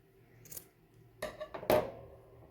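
Scissors snip off excess jersey knit fabric from a braided bracelet, giving a few quiet, separate cuts with short pauses between them, the last one the sharpest.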